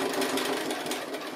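A sewing machine back stitches across the bottom of a quilted gift bag made from leftover orphan blocks, a steady close mechanical whir with a rapid needle rhythm running throughout, no talking.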